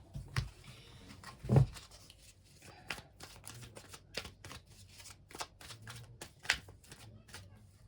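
Tarot cards are handled and moved across a table in a pick-a-card reading, giving a string of soft, crisp card taps and slides with a couple of louder knocks. The moments are fairly quiet, with no talk over them.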